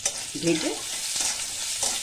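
Bitter gourd seasoned with salt and turmeric fries in a pan, giving a steady close sizzle with a brief stirring scrape early on and a faint knock near the end.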